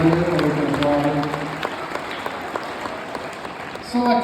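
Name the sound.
applause at basketball all-decade team ceremony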